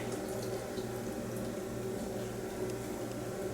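Milk poured into a crock pot for creamy mac and cheese makes a steady, continuous liquid pouring and splashing sound, close and even in level throughout.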